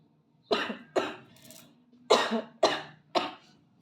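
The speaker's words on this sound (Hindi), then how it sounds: "आई एम सो सॉरी, मुझे खांसी हो चुकी है।" Five sharp coughs in a row, close and fairly loud, with short pauses between them and a brief gap in the middle.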